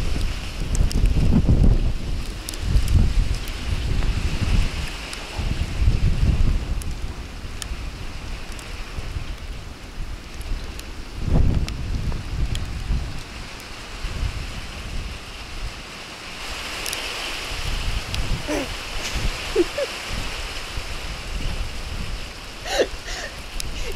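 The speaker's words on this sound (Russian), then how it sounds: "Пошел град со снегом." Hail mixed with snow falls in a winter storm in southern Russia, with strong wind gusting loudly against the microphone and a steady hissing patter of icy precipitation throughout.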